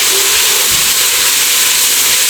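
Six cloves of minced garlic sizzle loudly in an enamel cast iron Dutch oven, a dense, steady, close hiss with no pauses.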